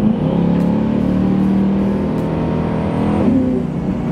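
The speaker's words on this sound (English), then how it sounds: "It sounds like a Corvette, to be honest with you." Steady, loud exhaust rumble from a twin-turbo Chevrolet Corvette C8 being driven, holding a smooth low drone with a slight rise in pitch near the end, no voices over it.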